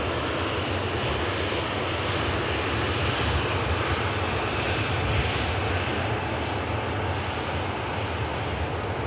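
An ATR turboprop lined up for departure to the Isle of Man gives a broad, steady engine roar, loud and constant with no talk.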